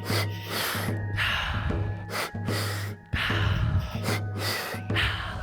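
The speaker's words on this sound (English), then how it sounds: "we're gonna start breathing deep. Belly, chest, fully in." Deep breathing in a guided breathwork session: a series of forceful, airy inhales and exhales in a steady rhythm over a low sustained drone, close and prominent.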